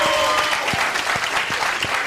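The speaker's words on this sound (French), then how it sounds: "Il mérite encore plus d'acclamations." A crowd at a helmet-safety event in Burkina Faso applauds after a slam performance, with loud, dense clapping and some cheering throughout.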